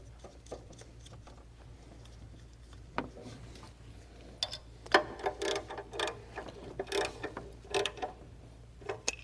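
A heat shield nut being tightened on a Chrysler 2.4L engine, quiet at first and then a busy run of close metallic ratcheting clicks and taps in quick bursts over a low steady hum, with no talk.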